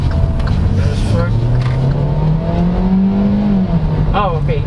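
A 2019 Kia Forte LX with an automatic transmission, driven in sport manual mode, revs with a rising, droning engine note from inside the cabin. The pitch falls near the end as the gearbox upshifts.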